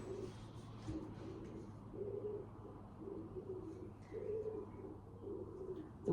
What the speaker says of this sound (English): The wood pigeon is an added extra.